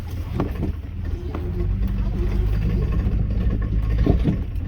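A Jeep cruising through the woods on a trail, its engine giving a steady low rumble close by, with occasional thumps and knocks from the vehicle over rough ground.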